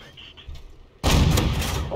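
A Panhard AMD 178B armored car fires an APCR round in a tank video game. After a quiet lead-in, a single sudden, loud gun blast hits about halfway through, followed by a sustained rumbling tail.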